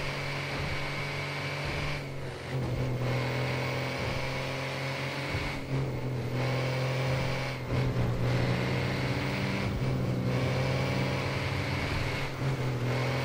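A truck engine in the GTA 5 video game roars at a steady low drone, with brief dips in intensity, loud and sustained without speech.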